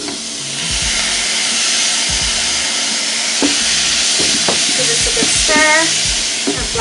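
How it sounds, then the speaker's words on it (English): Corn and black beans stirred in a sizzling pan for potato flautas, a steady fry hiss with repeated scraping strokes of the spoon, close and loud, no voices. "Add our corn and our black beans. Give this a good stir."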